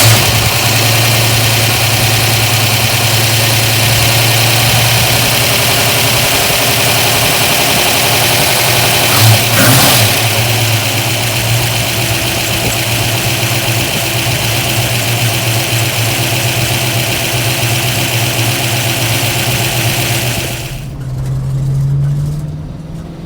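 A 1965 Ford Mustang engine fitted with a Holley 650 carburetor runs at a steady, loud idle for about twenty seconds, then cuts off abruptly and leaves near silence with a soft low rumble.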